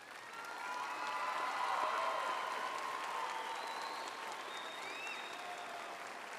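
Sustained applause from a large audience at a high school graduation ceremony in Mountain View, a steady dense wash of clapping with faint cheers rising and slowly easing off.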